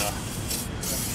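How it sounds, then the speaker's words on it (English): Penetrating spray hisses steadily onto frozen bolts on a 1997 Honda Civic engine under partial rebuild, a close, continuous spray lasting the whole moment. "I should try to spray these bolts in advance because they're a little on the"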